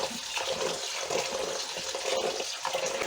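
Running tap water pours and splashes steadily over rice being rinsed in a bowl while making Uzbek Navoi-style plov, the flow continuous and close with small fluctuations.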